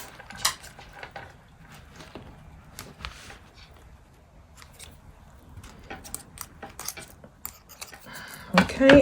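Scissors snipping off a small bit of a paper planner insert: a few dry, crisp cuts and light clicks scattered over quiet handling noise, ending in a louder rustle, with no talking.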